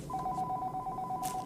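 A telephone rings with a steady electronic warble, one continuous ring burst in a quiet room with no voices.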